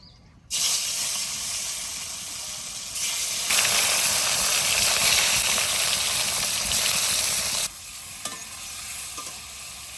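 Fish seasoned with salt and turmeric fries in a pan, giving a loud, steady sizzle and hiss that swells midway and then eases back, running alone throughout.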